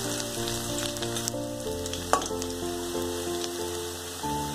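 Garlic and ginger fry in a pan for spicy Schezwan egg chicken fried rice, giving a soft continuous sizzle with light crackles and one brief clatter as they are tossed, over a low steady background hum.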